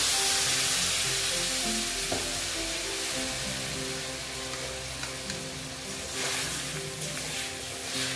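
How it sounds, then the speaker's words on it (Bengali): Water poured into a jackfruit curry in a pan sets off a loud, steady hissing sizzle that gradually softens, with a few faint clinks. "দেখো এখানে আমি অল্প জল অ্যাড করে দিচ্ছি।"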